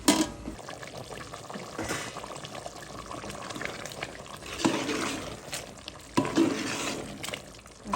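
Beef curry with potatoes braises in a pot, a soft sizzle and bubbling broken by a few louder scraping stirs, with no voices.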